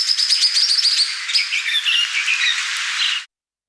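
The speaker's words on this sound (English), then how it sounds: "listening out for that classic swift parrot call" Critically endangered swift parrots call in a dense stream of high, rapid chirps and metallic squeaks that runs for about three seconds and then cuts off abruptly.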